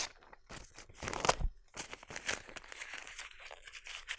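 A paper painting is crumpled up by hand, giving close, irregular crackling and crinkling bursts with short pauses between squeezes.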